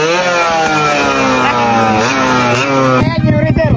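A Suzuki Raider motorcycle engine revving at high RPM, a loud close buzzing whine that climbs and holds, then drops into rough idle at the end, with someone talking over it.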